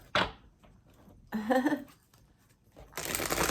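Tarot cards riffled and shuffled in quick crackling bursts, a brief one first, then a longer flutter, and a final sustained shuffle, close by.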